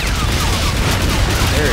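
Dense, loud gunfire fills a firefight in the video game Call of Duty: Infinite Warfare, with overlapping rapid shots and explosions forming a continuous roar without pause.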